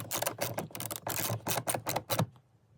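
A socket wrench ratchets nuts down on a short shifter being installed in a Mazda RX-7 FD, a close run of quick, repeated mechanical clicks in bursts, stopping near the end.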